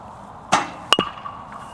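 A baseball bat bunts a ball, giving a short hollow knock followed by a second quick crack, then brief faint ringing in a quiet setting.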